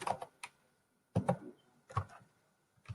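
Typing on a computer keyboard, fast, close bursts of clicking keystrokes separated by brief pauses, with no talk in between.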